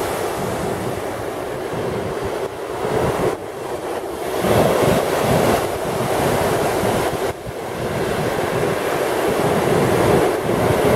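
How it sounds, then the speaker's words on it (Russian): Baltic Sea waves washing onto the shore on the Polish coast at sunset, a steady broad rushing surf with swells rising and falling, mixed with some wind noise on the microphone and no talking. "Послушайте, как шумит наше прекрасное Балтийское море."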